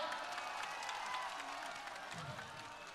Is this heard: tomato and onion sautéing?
no